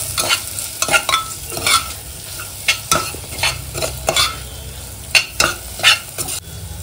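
A spoon stirs spices through paneer curry in a hot pan, scraping and clattering in uneven strokes over a steady sizzle of frying, close and with no talking.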